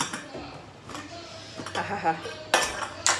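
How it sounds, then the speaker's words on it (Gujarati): Pressure cooker of khichdi being opened in a home kitchen, with clinks of metal utensils and lid handling, a few sharper clatters near the end, while a person makes a short exclamation. "ચલો, અમારા ભાવબેનની ખીચડી બનાવી હતી ની રેડી થઈ ગઈ છે હવે આપણે કુકર ખોલીએ"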